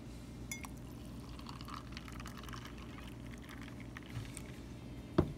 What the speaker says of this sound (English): Now I will pour my iced coffee in